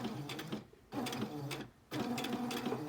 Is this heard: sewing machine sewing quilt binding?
yes